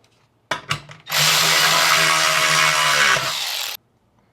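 A power tool, likely an impact driver, runs one sustained burst of about three seconds tightening a 10mm bolt on a Jeep JL, loud and close after a few brief clicks, with no talking.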